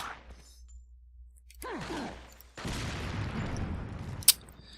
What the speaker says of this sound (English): Why is that explosion not hurting them?